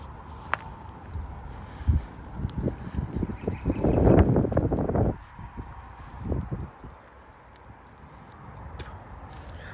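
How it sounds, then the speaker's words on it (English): Wind gusts of about 30 mph sweep through trees in Frisco, Texas, a broad rushing roar that swells to a peak midway and then eases back to a quieter background hiss. "the maximum gusts come like every minute or so"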